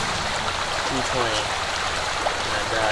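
A creek flows in a steady broadband rush of water, with faint voices murmuring underneath throughout.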